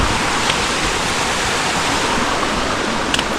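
A mountain creek rushes loudly and close by, a constant broadband wash of flowing water over the creek bed with no pauses and no voices.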